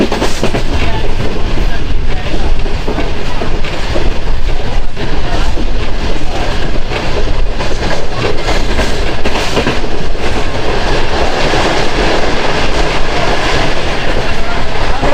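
The Karakoram Express, running from Karachi to Lahore, rolls into Shahdadpur with a loud, steady roar and a rhythmic clickety-clack of wheels, heard from inside the carriage.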